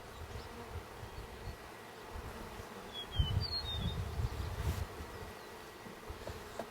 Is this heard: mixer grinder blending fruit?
no